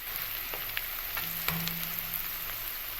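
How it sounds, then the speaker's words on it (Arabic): Onions frying in hot oil in a pan, a steady soft sizzle with scattered crackles and pops, fairly faint and without voices. "البصل ده بحمره كده وانشله كده من الزيت"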